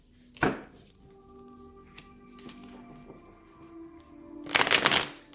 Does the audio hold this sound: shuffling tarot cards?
yes